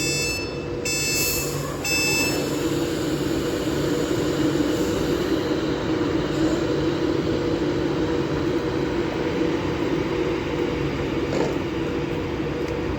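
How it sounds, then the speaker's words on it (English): Avanti West Coast train 39119, the 14:45 service to Glasgow Central, departs Stafford station on the West Coast Main Line. A steady, continuous rumble of rolling stock fills the scene, with a few brief high beeps at the start. "now departing is 39119 with the 1445 Avanti West Coast service to Glasgow Central"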